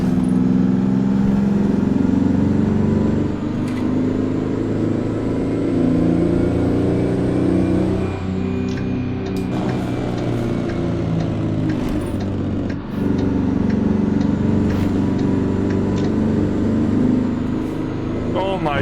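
A Mack R truck with a Detroit two-stroke "Screamin' Jimmy" diesel revs and drones loud and continuous in American Truck Simulator, its pitch rising and falling through gear changes, with a brief dip near the middle.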